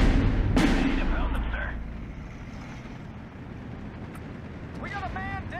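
Mortar fire in the World War II strategy game Steel Division 2 lands as a heavy thump early on, followed by a low rumbling battlefield wash, with voices speaking briefly over it.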